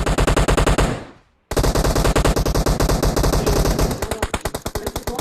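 Rapid bursts of automatic gunfire in the video game Free Fire rattle loudly and continuously, break off for a brief silence, then resume in sustained rapid-fire volleys.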